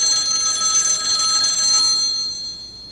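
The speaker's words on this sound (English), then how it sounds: "And the phone rang." A telephone rings with a steady, bright electronic trill that holds for about two seconds and then fades, heard close and alone with no talking.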